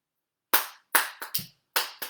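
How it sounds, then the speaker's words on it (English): Six sharp hand claps close up in an uneven rhythm, with short gaps between them and no voices. "so let's get some clapping going"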